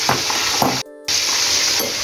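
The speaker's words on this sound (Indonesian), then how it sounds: "Ini harus kita goreng terus ya, sampai sedikit agak kering" Chicken, potatoes and green beans fry in a pan with a loud, steady sizzle, briefly cut off for a moment before the crackling resumes.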